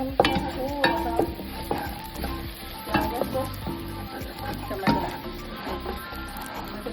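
Cumin seeds sizzle steadily and close in hot oil, with periodic clinks and scrapes of a utensil stirring the pan every second or so.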